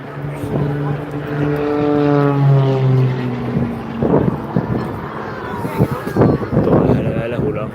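A propeller aerobatic plane with a Lycoming 540 engine, built in 2012, rolls at the Blackpool Airshow, its engine drone rising and falling in pitch overhead while a commentator talks over the PA.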